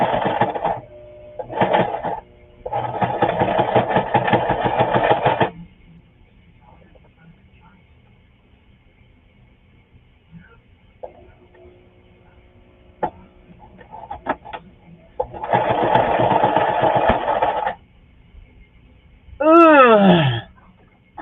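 A sewing machine stitching fabric for a handmade journal, running in several bursts of rapid, steady mechanical chatter separated by quiet pauses, with a short whirring wind-up near the end.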